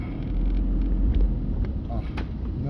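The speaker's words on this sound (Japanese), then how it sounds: "今ちょっとすごく強風やね。" Strong typhoon wind buffeting a moving car in Fukuoka, heard from inside as a low, steady rumble of wind and road noise with gusty swells, and a brief voice near the end.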